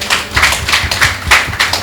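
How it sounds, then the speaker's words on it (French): Audience applause at a French language-learning talk show event, a steady patter of many hands clapping at moderate loudness for a couple of seconds, with no voices over it. "Sous vos applaudissements, s'il vous plaît."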